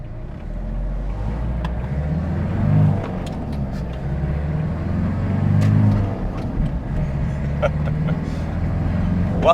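Road traffic passing on a rural road in Panama, a steady low engine rumble that swells as vehicles go by, with some voices over it.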